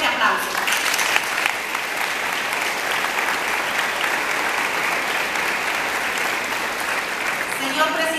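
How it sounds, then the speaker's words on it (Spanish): Strong applause from the audience at a school graduation ceremony, continuous and fairly close throughout, with a voice briefly audible near the start and end. "para ellos solicito un fuerte aplauso."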